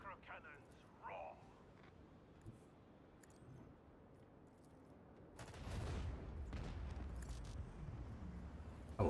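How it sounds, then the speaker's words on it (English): Heavy macro cannon fire from a warship in the Warhammer 40k Rogue Trader video game, a loud sustained rumbling barrage of booms building in the second half after quieter scattered effects and talk. "I would hear the macro cannons roar"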